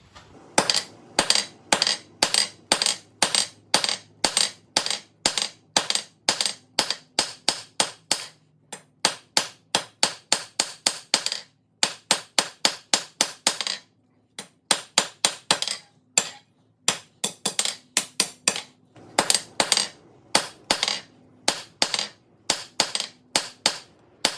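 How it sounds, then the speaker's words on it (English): A hammer strikes hot steel on an anvil while a dinner triangle is forged with half on, half off blows: loud, sharp, ringing blows in quick rhythmic bursts, separated by short pauses. "we'll set it down with half on, half off blows"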